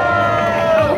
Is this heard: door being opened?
no